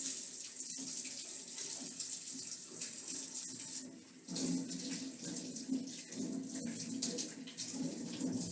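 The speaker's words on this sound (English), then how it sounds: "I'm going to wash my hands, put on my gloves" Tap water runs steadily into a sink during handwashing before a head-to-toe health assessment, a continuous hiss that swells slightly about halfway through, with no speech over it.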